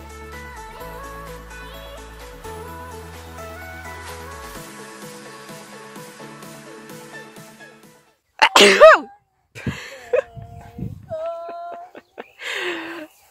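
A person sneezes several times in a row during a family holiday in the Bordeaux region, loud sharp bursts that follow a stretch of music and stand alone.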